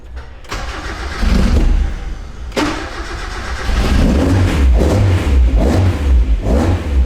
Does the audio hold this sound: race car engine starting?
yes